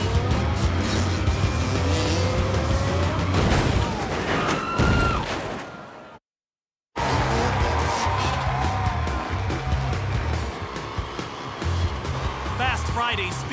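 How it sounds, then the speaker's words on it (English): Motorcycles racing at speed on an oval dirt speedway track in Auburn, California, loud roaring engines passing close, with a brief cut to silence midway before the racing noise resumes under a narrator's voice. "Motorcycles hit 120 miles per hour on an oval dirt track."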